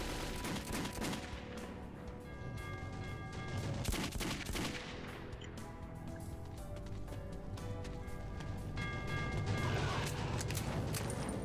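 Sustained gunfire in Metro 2033 until the ammunition runs out, dense bursts of shots mixed with clanks and game noise, steady and moderately loud throughout.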